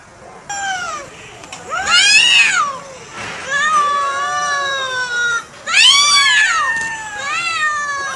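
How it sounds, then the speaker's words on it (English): A cat meows repeatedly and loudly, close by. Several drawn-out, rising and falling cries come in clusters and are separated by short pauses. "C for cat. C for cat."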